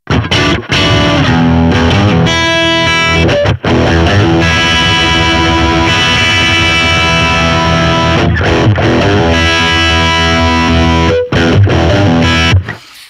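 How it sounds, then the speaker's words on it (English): Electric guitar through an AZOR distortion pedal, heavy sustained distorted chords ringing loudly and continuously with a few brief breaks. "All right, let's turn the distortion on."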